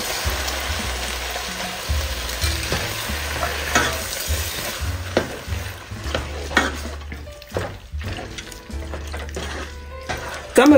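Peppers, onions, garlic and seasoning fry in a pot while being stirred, giving a steady close sizzle with repeated scraping strokes and clinks throughout, growing slightly louder near the end.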